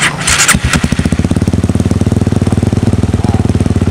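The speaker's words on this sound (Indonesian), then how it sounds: "Seperti ini suara knalpotnya." A motorcycle fitted with a Juken 5 ECU fires up with a short burst, then idles close and loud with an even, rapid exhaust thump.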